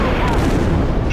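Gunfire and artillery rumble through an Ace Combat 5 air-combat battle on PS4, a dense, loud, continuous barrage of booms and rattling shots, with a faint voice mixed in.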